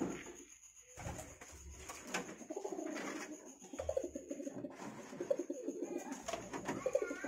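A caged dove or pigeon coos in soft, repeated calls at a bird pen, faint and somewhat distant, over a busy background of other birds and room noise.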